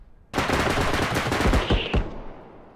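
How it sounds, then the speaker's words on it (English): Gunfire from a shotgun in the video game Bodycam: a loud, dense burst of rapid, overlapping blasts starting abruptly and lasting about a second and a half, then a few heavier booms that decay into a fading tail. "Is this a shotgun?"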